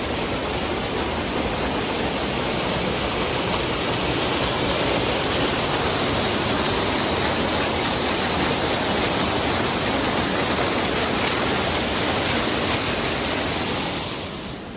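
Steady, dense rush of flowing water fills the whole stretch, loud and close, with no voices, easing slightly at the very end.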